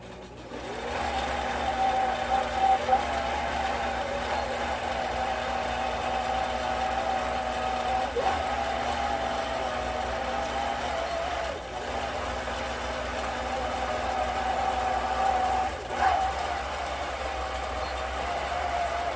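A home sewing machine runs a steady stitching line, its motor hum and needle rhythm continuous and close for the whole stretch, with brief dips near the middle and end.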